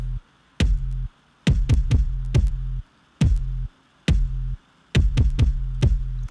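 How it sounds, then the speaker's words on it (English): A punchy kick drum thumps in a steady repeating Jersey club pattern, each hit locked with a deep sub bass note that drops out between phrases. "The kick and the bass, all together they sound like this."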